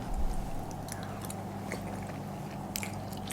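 Someone chews tteokbokki rice cakes and fish cake close to the mic, with soft wet squishing and occasional small bites over a low steady room hum.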